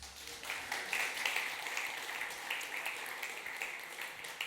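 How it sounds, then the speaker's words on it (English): Audience applause at a security conference as the next speaker is introduced, a steady wash of clapping from a seated crowd that holds at an even level throughout. "please give a very warm round of applause for our next speaker"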